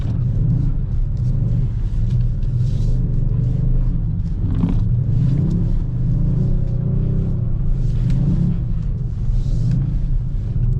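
A Kia Stinger GT2 AWD is driven under throttle through snow during a Chicago winter storm, its engine a loud, constant low rumble heard from inside the car, rising and falling slightly as throttle changes.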